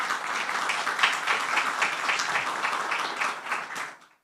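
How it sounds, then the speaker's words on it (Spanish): A conference audience applauds steadily, a dense patter of many hands clapping for a few seconds before fading out. "quiero pedir un aplauso muy importante para todos vosotros por estar hoy aquí"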